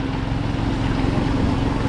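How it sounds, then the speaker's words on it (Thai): A long-tail boat's engine drones steadily and loudly at close range near Vang Vieng, with a constant rumbling hum and no break in the sound. "เสียวเรือหางยาว"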